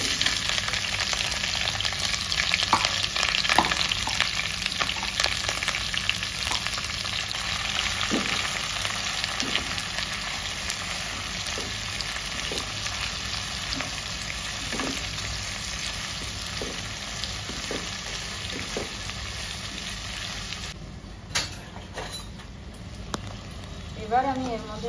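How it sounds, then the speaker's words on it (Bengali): Spices fry in hot oil in a mutton dish with a continuous, fairly loud sizzle, while scattered clicks and scrapes of stirring run through it and a voice talks over the frying. "এবার একটু তেলের মধ্যে এগুলো মিলে নেব, দেন আমি অ্যাড করে দেবো পেঁয়াজ।"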